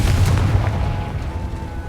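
A Confringo explosive spell from the video game Hogwarts Legacy goes off with a loud, close, booming blast, its deep rumble slowly fading over the next couple of seconds.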